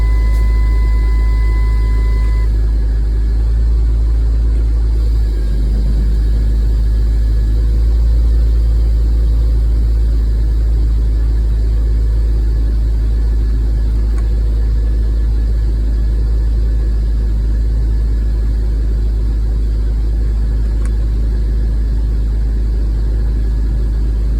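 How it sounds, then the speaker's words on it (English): A Rover 75 idles steadily with its JATCO JF506E automatic transmission being shifted through each gear, giving a continuous low engine drone close by with no talk. "Now let's cycle through all of the gears, and remember, leave it in each gear for at least 5 seconds before you change into the next one."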